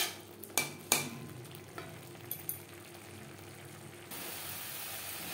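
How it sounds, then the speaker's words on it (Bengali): Butter being stirred in a pan on a low flame to make ghee: a few sharp spoon clinks against the pan near the start, then a faint, steady sizzle from the melting butter. "লো ফ্লেমে নাড়াচাড়া করতে থাকবো যতক্ষণ না পর্যন্ত পুরোপুরি ঘিটা বেরিয়ে আসছে"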